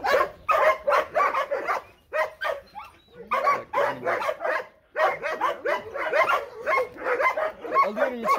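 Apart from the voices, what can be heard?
Kangal and Chow Chow dogs barking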